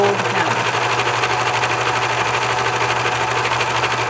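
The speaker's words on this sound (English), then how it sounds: "the serger is going to grab the fabric and pull it under, doing a small rolled hem." A serger runs continuously at speed while sewing a small rolled hem on fabric, giving a loud, even mechanical whir with a fast rapid stitching pulse and no pauses.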